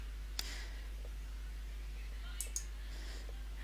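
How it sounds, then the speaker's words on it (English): Computer mouse clicks while page access permissions are removed in Google Sites, a few faint, sharp clicks spread over a few seconds against a steady low hum. "any other students who are not Summer, I'm going to simply close off their access to the page by clicking on the X next to their name."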